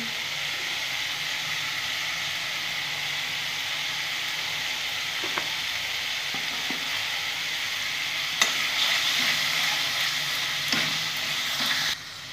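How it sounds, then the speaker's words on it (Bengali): Ground spice paste frying in a pan for a boneless chicken dish, a steady close sizzle with scattered scrapes and taps as it is stirred, and no voices. "এটা দিয়ে আমি ভালো করে নাড়িয়ে নেব"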